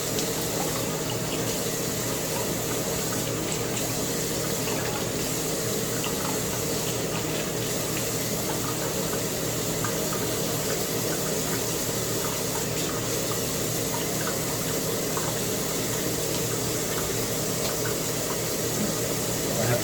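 Tap water running steadily into a sink while rinsing after a straight-razor shave, a constant close splashing flow with small clinks in the background.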